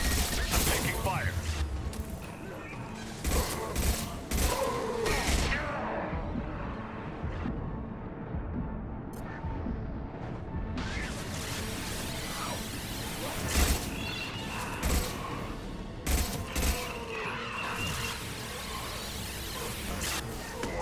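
Gunfire during a firefight in Mass Effect 2 on Insanity difficulty: repeated sharp cracking bursts and clattering mechanical shots over dense, continuous battle noise, loud and close throughout.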